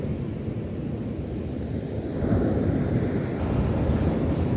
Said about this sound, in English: Hopefully you can hear me over the noise of the waves.